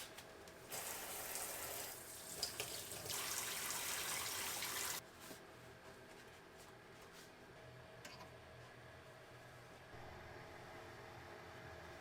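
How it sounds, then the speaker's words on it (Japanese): Tap water runs into a kitchen sink while dishes are washed, with a steady rush that stops after a few seconds and then quieter clinks and handling sounds, all fairly faint. "その間に洗い物をしておこう"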